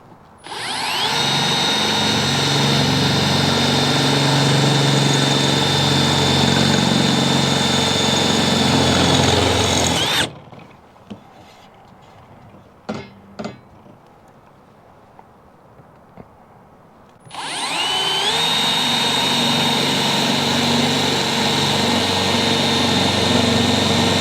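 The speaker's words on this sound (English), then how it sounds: "we're just going to start drilling down" Power drill fitted with a KnKut industrial drill bit boring into oiled metal, a loud steady whine for about ten seconds, a quiet pause with small knocks, then the drill spinning up again for a long run.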